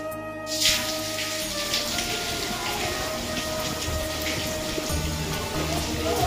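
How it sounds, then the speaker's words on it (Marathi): Steady rain falling around a temple at Hampi in Karnataka, a dense continuous hiss of drops on surfaces that sets in with a soft splash near the start and holds at a moderate level with no talking over it. "पावसाला परत सुरुवात झाली."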